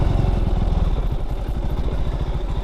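A Benelli TRK 251 motorcycle engine chugging unevenly and loudly up close on a forest trail, its low pulsing firing rhythm faltering as it stalls out.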